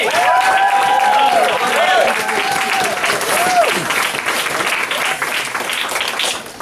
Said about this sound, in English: give all of our graduates over here a huge round of applause